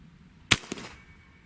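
An AEA Challenger PRO air rifle fires at a watermelon: one sharp, loud crack, then a duller smack about a fifth of a second later as the pellet hits the fruit, fading fast into quiet.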